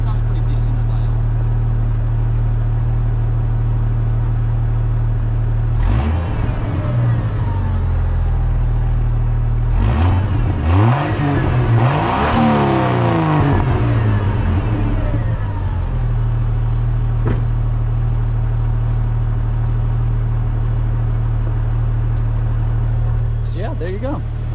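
A 1997 Jeep Cherokee XJ idles with a deep, steady exhaust rumble, then is revved in several sharp blips in the middle, one climbing swell among them, before settling back to a low idle, all recorded up close.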